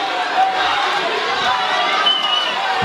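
A boxing arena crowd cheers and roars loudly and continuously during a bout, a dense wash of shouting voices with no breaks.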